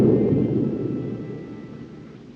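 Thunder from a storm in a 1930 film soundtrack rolls as a deep, low rumble. It is loud at first and then slowly fades, with no voices.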